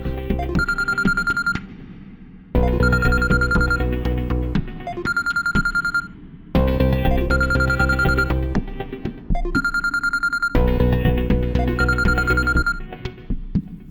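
A telephone rings in repeated bursts of a bright electronic ringtone, four rounds separated by short gaps, clear and close with no talking.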